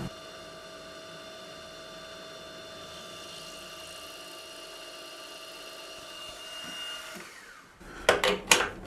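A machine drilling stainless steel with a 2.5 mm carbide drill at 1500 RPM: a steady tonal whine and motor hum throughout, building slightly before ending with a few louder clattering bursts near the end.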